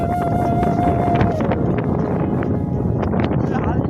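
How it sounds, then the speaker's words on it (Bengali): A strong wind blows dust around outdoors, roaring and buffeting the microphone in a constant, loud rush, with a faint voice underneath. "এত জোরে হাওয়া দিচ্ছে না, মুখে ধুলো ঢুকে যাচ্ছে"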